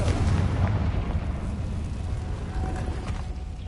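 A Confringo fire spell explodes in Hogwarts Legacy, a heavy booming blast with a deep rumble that fades slowly over a few seconds, with no voice over it.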